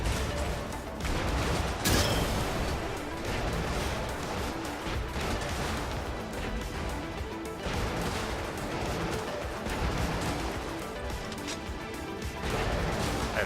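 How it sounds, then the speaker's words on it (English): Continuous loud combat in the mech game Brigador: rapid gunfire and heavy cannon blasts crash together with explosions in a dense, unbroken barrage. "So we have one gun that's a rapid shot and another that shoots a big cannon kind of thing."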